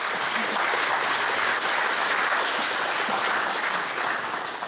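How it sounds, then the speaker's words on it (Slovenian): Sustained audience applause for Maja Kocjan at a televised Slovenian talk show, a dense steady wash of clapping from a studio crowd that holds loud and even for several seconds with no speech over it. "Velik aplavz za Majo Kocjan."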